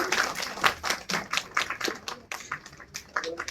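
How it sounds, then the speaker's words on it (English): Scattered audience clapping at a formal lecture felicitation, uneven individual claps rising and falling, with voices talking over it throughout. "A round of applause, please."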